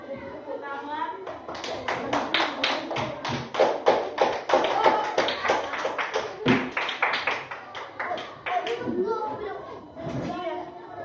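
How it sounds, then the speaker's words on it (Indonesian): A group of children in a classroom discussion breaks into clapping that rises to rapid, lively applause, which fades into scattered claps and a few voices toward the end. "kepada kelompok 2 beri tepuk tangan"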